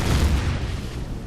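A deep, rumbling rocket blast booms in a space combat game as it strikes armored blocks, one heavy explosion that fills the low end and rolls on for about a second without any voice over it.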